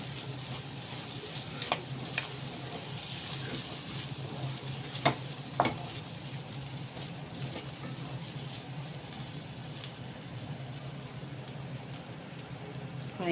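Mutton boti fry with coriander powder and garam masala sizzles steadily in a pan while being stirred, a continuous hiss broken by a few sharp scrapes and clinks of the spoon.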